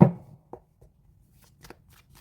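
A deck of cards is shuffled for a horoscope card reading: one close, crisp riffle burst at the start, then a few faint soft taps and flicks in a quiet room.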